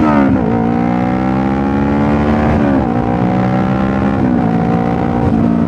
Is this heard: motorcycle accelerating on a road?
yes